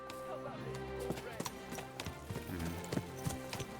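Horse hooves clip-clop in a steady, close rhythm in the medieval video game Kingdom Come Deliverance 2, heard over a constant bed of in-game ambience and music.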